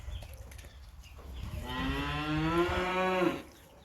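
A crabby steer bellows inside a farm barn, one long, loud, drawn-out moo rising and holding for nearly two seconds before cutting off, with faint barn ambience around it.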